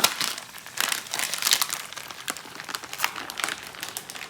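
A 12-ounce plastic bag of seafood crinkles and rustles as it is emptied for a seafood gumbo, with an irregular run of close, crisp crackles throughout.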